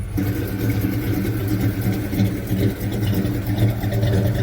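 A 1984 Chevy C10 truck engine idles and runs with a steady, close mechanical rumble and a whirring overtone, with no one speaking.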